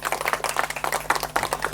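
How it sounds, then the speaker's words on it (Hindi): Audience clapping at an Ambedkar Jayanti rally honoring a district police chief, a dense, steady patter of many hands close by, with no voices over it. "ताली बजाइए जो सपना मेश्राम के लिए।"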